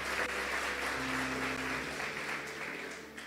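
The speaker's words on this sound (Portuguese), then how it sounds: "Bata palmas para Ele, porque Ele é digno." Steady crowd applause at a church service fills the whole stretch, a dense wash of clapping that holds fairly even, with a low musical hum underneath, then eases slightly near the end.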